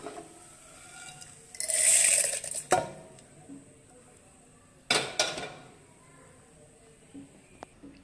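Roasted dal poured from a pan into a mixer grinder jar, a short rattling rush of dry grains followed by metallic clinks and scrapes of the vessel, close and fairly quiet.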